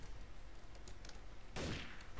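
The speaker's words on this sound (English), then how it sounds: "I hear gunfire." A sudden burst of rapid gunfire erupts near the end after quiet background, short and sharp like a video game firefight.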